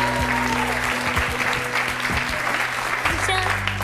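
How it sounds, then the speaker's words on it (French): An audience applauding at a televised French gathering, dense clapping held steady for a few seconds with background voices and tones under it. "Je vous demande d'applaudir très très fort Gabriel qui lui aussi a 6 ans."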